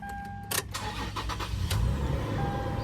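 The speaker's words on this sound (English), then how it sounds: "You're going to want to start the vehicle," A 2010–2024 Toyota 4Runner started with a key: a sharp starter crank, then the engine catches and settles into a steady low idle, close by with no talk.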